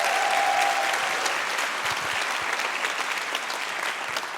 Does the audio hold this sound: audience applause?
yes